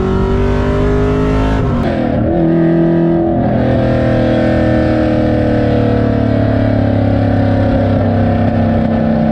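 Nissan 350Z with a swapped 450 hp LS V8 runs loud and close, a deep steady rumble with one brief rise and dip in revs near the start before it settles into a constant drone.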